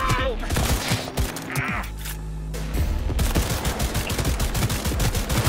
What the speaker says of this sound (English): Smart bullets can shoot around corners